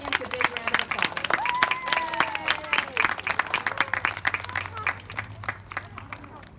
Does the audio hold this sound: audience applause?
yes